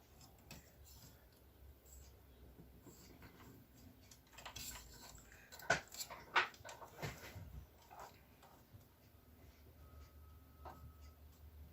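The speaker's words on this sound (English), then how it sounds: "Of course, my dogs decided to start playing." Dogs playing quietly nearby: faint scuffling, clicks of paws and a few soft thumps and yips in an otherwise hushed room.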